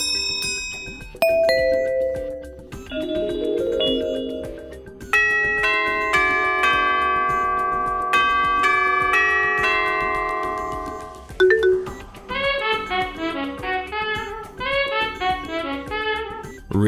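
A Honeywell 5 Series portable wireless doorbell plays its pre-installed 84-decibel tunes one after another: clear electronic chime melodies with ringing bell-like tones, some held notes and some quick stepping patterns, loud and close with no talking.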